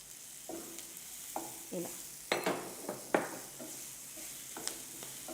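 Salted cauliflower sizzles quietly in a pan while being stirred, with gentle frying hiss under intermittent scraping strokes and a few sharper clinks of the spatula against the pan.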